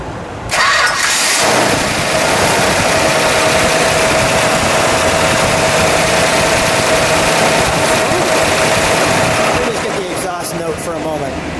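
A 1969 Dodge Charger Daytona with a stock-rebuilt 426 Hemi V8 cranks and catches after a short start, then settles into a steady, loud, smooth idle that runs throughout, with people talking nearby.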